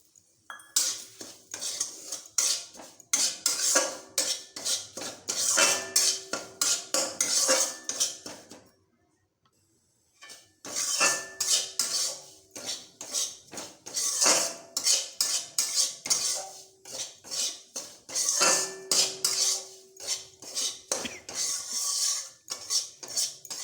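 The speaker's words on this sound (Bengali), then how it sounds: "আমি এখানে হাফ বাটি সুজিটা দিয়ে দিচ্ছি ভালো করে ভেজে নেবো" Semolina stirred and dry-roasted in a metal pan for a family dinner dish, a steady run of quick scraping and clinking spoon strokes against the pan with a brief pause midway, close and fairly loud with no talking.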